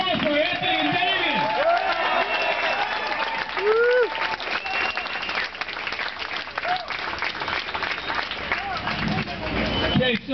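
A crowd applauds at an End the Fed rally in Los Angeles, sustained loud clapping with cheers and scattered shouting voices, plus babble of people talking throughout.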